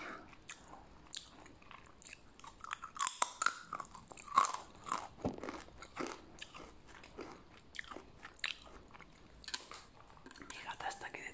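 Crunchy plantain chips, a Dominican snack, bitten and chewed up close, giving repeated crisp crunches and chewing sounds with soft speech in between.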